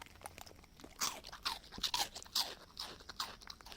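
A dog chews on roti bread, giving close, quiet, irregular crunching and wet munching bites that repeat unevenly with no voices over them.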